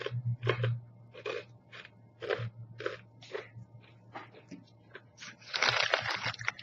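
Rye and bacon crunchy snack being chewed close to the mic: a run of sharp crunchy bites in an even rhythm, ending in a louder burst of crackling crunches.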